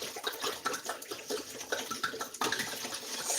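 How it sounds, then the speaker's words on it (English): A large bottle of wine glugging and splashing as it is poured into a pot for mulled wine, a close, continuous liquid rush that grows fuller toward the end. "I'm going to go ahead, I'm going to add the wine"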